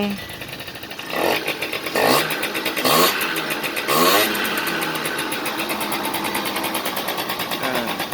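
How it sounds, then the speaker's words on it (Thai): A Kawasaki ZX AF34 motorcycle engine runs at a steady idle with a fast, even putter, rising briefly in a few short bursts, close and fairly loud throughout. "ติดเครื่องให้เจ้าของดูนิดนึง"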